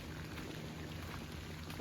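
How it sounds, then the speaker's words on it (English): Steady rain falls outdoors over a pepper garden during a long wet spell, a constant, dense hiss with no breaks, fairly faint and even. "I wish it would stop raining just a little bit."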